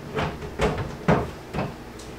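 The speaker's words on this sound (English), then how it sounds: "we're going to close the door" The door of an Excalibur food dehydrator, loaded with banana slices, is fitted and shut, giving four or five light plastic knocks and clatters in quick succession, close and alone.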